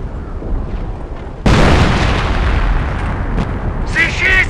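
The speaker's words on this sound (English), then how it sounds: "They're shooting at us!" Gunfire and explosions ring out in a Company of Heroes battle at the Falaise Pocket, a sudden loud burst cutting in after a quieter rumble and continuing as dense overlapping bangs, with a brief shouted voice near the end.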